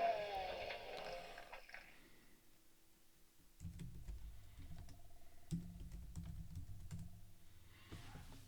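Keys tapped on a computer keyboard beside a 486 SX PC running MS-DOS games, a quiet burst of irregular clicks that come and go over a steady low hum.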